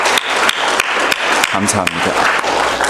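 Welcome applause from a church congregation during a Sunday service, a dense steady clapping that runs throughout, with a voice speaking briefly over it.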